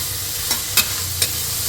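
Onions frying with ginger-garlic paste in a pan, a steady soft sizzle running throughout, with three brief stirring scrapes standing out over it.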